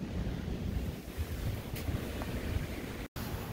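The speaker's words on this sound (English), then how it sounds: "It's pretty windy out here." Strong wind buffets the microphone at a beach, with a steady low roar and rumble that mixes with the wash of surf and has no speech over it.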